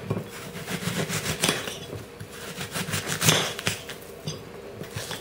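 Blunt butter knife chopping through an onion on a hard board, a busy run of close, irregular knocks and scraping clicks with no voices.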